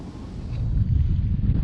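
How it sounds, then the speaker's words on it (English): Steady low rumble of wind buffeting the microphone at the top of a hill in northeastern California, growing stronger after a moment and staying constant. "It's pretty windy up here."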